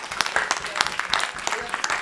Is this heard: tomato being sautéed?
no